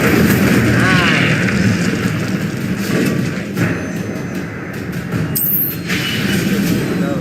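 Incendio fire spell cast in Hogwarts Legacy, a loud burst of roaring, booming fire and whooshing effects over game noise, with a voice speaking through it.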